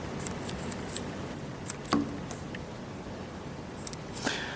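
Scissors cutting little boxes out of craft material for D&D roads, with soft, sparse snips and light rustling close by, quiet and without talk.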